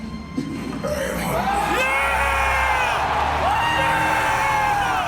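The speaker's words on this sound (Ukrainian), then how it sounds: "Ви тільки послухайте реакцію людей в залі." A live audience at Sony's E3 2016 press conference erupts as God of War is revealed, a loud, sustained roar of cheering, whooping and yelling from a packed hall that swells and holds.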